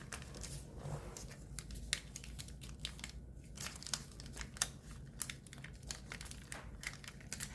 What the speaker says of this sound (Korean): 이제 이 네 군데가 가운데에 오도록 접어줍니다.